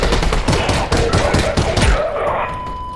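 Rapid pistol shots fired at enemies in Half-Life: Alyx, a quick string of sharp close reports that stops abruptly, leaving a short quiet tail.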